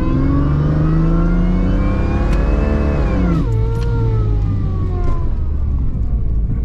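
A supercharged Jeep ZJ engine revs hard and loud, its pitch climbing steadily, then dropping sharply with a shift and climbing again, a continuous close-up engine roar throughout.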